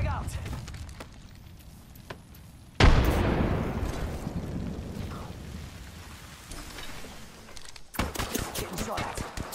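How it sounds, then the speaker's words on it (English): Heavy gunfire in the Apex Legends battle royale game, a loud sudden burst of shots and explosive impacts that keeps rattling on, with a second sharp volley near the end. "Getting shot at."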